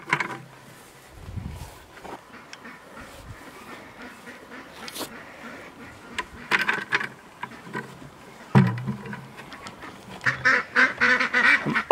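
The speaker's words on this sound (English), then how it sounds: "Only seeing three ducklings." Ducks and ducklings on a homestead quack in scattered, uneven bursts, with a few louder clusters of calls near the end over a quiet outdoor background.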